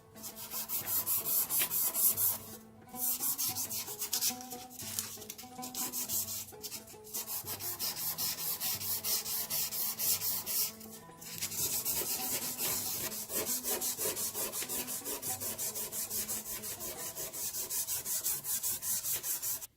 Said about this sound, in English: And I've sanded the whole neck with 400 grain.